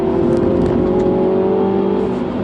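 A Mini John Cooper Works, a 2020 DT Edition, accelerates hard in third gear. A steady, loud engine drone with a strong harmonic tone holds close and continuous under acceleration, and no talk is heard.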